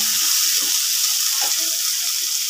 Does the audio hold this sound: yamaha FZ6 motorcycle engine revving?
no